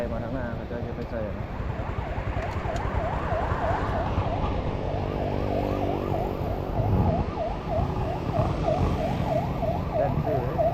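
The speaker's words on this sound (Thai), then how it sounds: "โอ้รถกู้ภัยมาทางหน้า" A rescue vehicle siren wails in a repeated rising-and-falling pattern as it passes along an evening street in Vientiane, loud over steady traffic noise and a busy street murmur.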